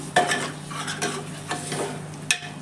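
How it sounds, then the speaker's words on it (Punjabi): Chopped onions and tomatoes sizzle in a hot pan while a spoon scrapes and stirs them in several quick strokes, close up, with a soft steady frying hiss underneath. "ਥੋੜਾ ਜਿਹਾ ਆਪਾਂ ਟਮਾਟਰਾਂ ਤੇ ਪਿਆਜ਼ਾਂ ਨੂੰ ਭੁੰਨ ਲਵਾਂਗੇ"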